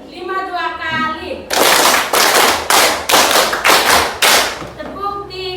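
A class of students at a high school clapping together in a rhythm game: a run of about six loud, sharp group claps in quick succession, with a voice giving instructions just before and after.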